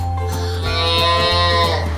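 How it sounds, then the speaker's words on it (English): A pet calf lets out one long, loud, low moo close by, its tone rising and wavering over about two seconds. "It was probably, months before we ever heard her moo."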